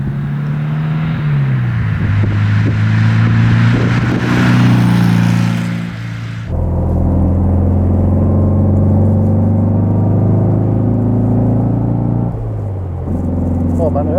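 A black 1964 Porsche 356 C coupé with a 2-liter engine runs while driving, its loud, smooth, low drone rising in pitch, dropping sharply at a gear change, then climbing again.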